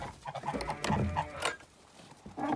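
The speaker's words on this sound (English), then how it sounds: "I'll put the geese back inside." Farm geese being herded back inside give a few close, scattered honking calls, with quieter gaps and light shuffling between them.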